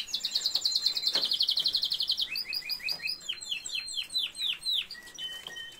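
Male songbirds kept in a home, including a yellow one, sing close by in bright rapid trilling phrases followed by a string of quick chirps and sweeping whistled notes, with no talking.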